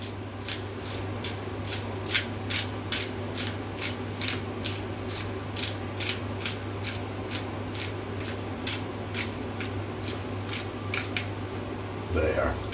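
Whole peppercorns are ground into a dish with a pepper grinder: a steady series of crisp, evenly spaced ratcheting clicks, roughly two per second, heard up close over a low constant hum.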